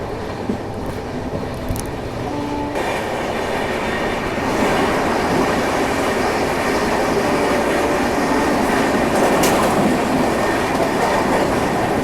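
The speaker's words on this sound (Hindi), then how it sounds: "मेरे ख्याल से ये नंदन कानन एक्सप्रेस थी" A Nandan Kanan Express rolls past on the adjacent track, heard from aboard a moving train on the Howrah–Puri line, with a steady loud rumble and rattling wagons throughout and no talk.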